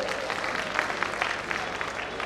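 A short burst of applause from attendees at a Jain community's annual convention, uneven clapping lasting about two seconds in a large hall.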